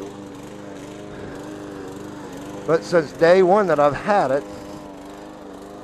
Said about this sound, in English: when I got this mower, I don't know if you can hear it running or not very well